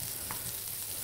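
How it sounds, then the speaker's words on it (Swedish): Shallots and sliced garlic cloves frying in a hot skillet, a soft steady sizzle heard close up and alone. "fräsa någon minut"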